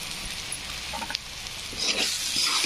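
Boiled potatoes with spices sizzle in a pan as they are stirred. A steady frying hiss carries a few scraping stir strokes, and it grows louder and brighter toward the end.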